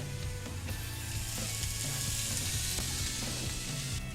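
Shallots and chopped lemongrass sauté in a pan with a steady, close sizzle and faint scraping clicks from stirring throughout, with no voices.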